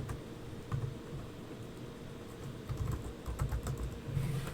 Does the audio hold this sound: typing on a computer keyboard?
yes